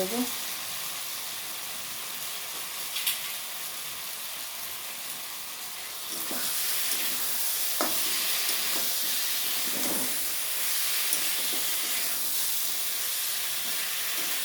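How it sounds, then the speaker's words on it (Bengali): Boiled taro frying in spice paste in a pan for a rohu fish curry, a steady close sizzle and hiss that swells louder midway, with occasional stirring scrapes. "দিয়ে আবারও কিছুক্ষণ আমি ভালো করে কষিয়ে নেবো"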